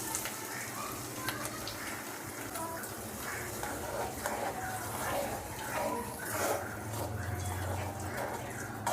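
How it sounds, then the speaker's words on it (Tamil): Beaten egg poured into a pan of fried onions with turmeric, giving a steady, continuous sizzle that stays fairly loud throughout with some stirring movement. "இப்போ நம்ம முட்டையை அதில் ஊற்றிடலாம்."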